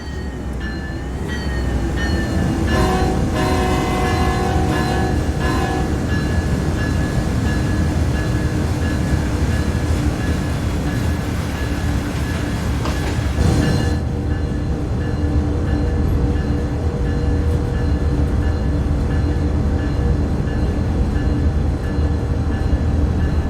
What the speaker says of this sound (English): There's our train over here.